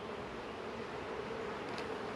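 Honey bees hum steadily inside an open, thriving hive during a spring inspection, a dense, continuous buzz at close range with no talk over it.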